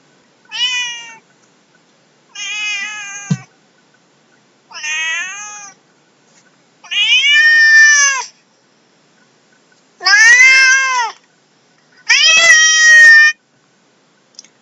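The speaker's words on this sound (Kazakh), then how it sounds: "Дұрыс айтасыңдар, бұл мысықтың дыбысы." A cat meows six times in a row, each a drawn-out, wavering call separated by short pauses, close and clear with no other sound.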